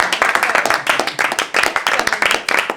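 An audience applauds during a French comedy show with loud, rhythmic clapping in pulsing waves, close and full, with no talk over it.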